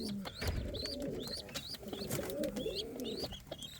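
An Indian fantail pigeon coos softly at close range in repeated low, rolling phrases, with faint higher chirps from other birds, likely chicks, scattered throughout.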